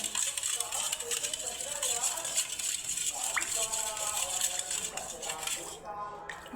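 A spoon clinks and scrapes around a bowl, quick metallic rattling as buttermilk is mixed with cumin powder, close and continuous, with a voice speaking faintly underneath.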